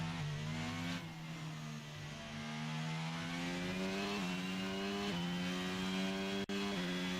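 Race car engines in the F1 22 video game at Imola, a loud continuous high-revving whine with steady gear-shift steps as the pitch climbs and drops, no voices over it.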